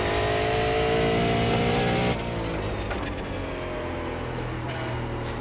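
Super late model race car on an oval track in the iRacing sim, its engine droning steadily with dense harmonics, loud and close, dropping to a lower, rougher tone partway through as it settles into its laps.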